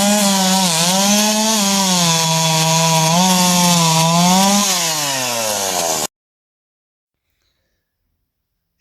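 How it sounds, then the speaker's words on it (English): A Hurricane 240 volt professional chainsaw sharpener grinds loudly and steadily for about six seconds, its motor pitch dipping and wavering under load, then cuts off abruptly into silence. "this Hurricane 240 volt professional chainsaw sharpener"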